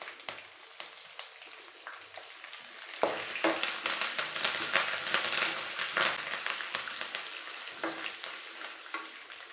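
Dried red chilies and curry leaves fry in hot oil for lemon rice, sizzling steadily with crackles and sharp pops, growing busier partway through as the spices are stirred in the pan.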